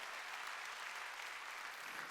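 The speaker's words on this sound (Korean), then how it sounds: "박수 치라 이게야" A church congregation at a Korean midweek worship service claps in steady, dense applause for about two seconds, fairly faint and without voices over it.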